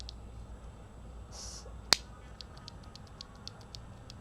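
A mechanical keyboard switch is tested, with one sharp, loud click standing out clearly, then a run of faint, evenly spaced ticks from further presses, all quiet and close with no voices.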